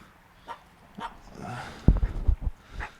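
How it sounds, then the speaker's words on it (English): A dog lets out a cluster of sharp barks and yips close by, starting with a few faint yelps and then a louder burst of overlapping barks near the end. "What the fuck are you barking at"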